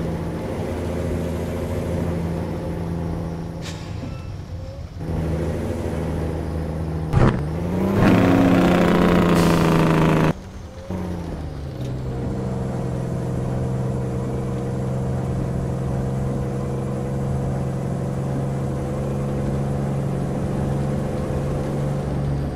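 A Peterbilt 379 truck engine in American Truck Simulator idles with a steady low drone, briefly revving up in the middle before settling back to an even idle.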